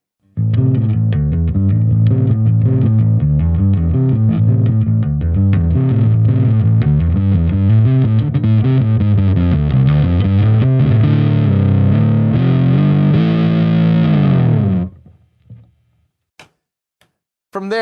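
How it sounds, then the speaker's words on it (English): Bass guitar played through an Acoustic B25C combo amp with overdrive rising from subtle grit to full saturation: a loud, continuous, gritty riff running about fifteen seconds, then cutting off to near silence with a few faint clicks. "Here, you can add in as much grit and grind as you like."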